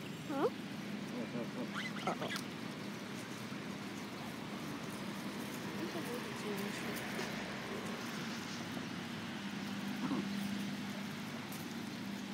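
Canada geese and their goslings feed on oats nearby, with scattered honks and soft calls over a low background murmur, and people talk faintly in the background.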